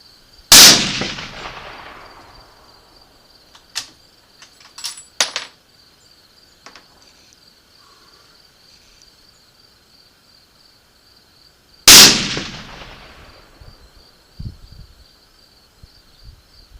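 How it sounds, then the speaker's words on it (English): Two loud suppressed rifle shots with AccuBond 180 grain rounds, about eleven seconds apart, each a sharp blast with a decaying tail, between them faint handling clicks and a steady insect chirp outdoors. "I just took 2 shots with some AccuBonds 180 grain, and the corset cover is still cool to the touch."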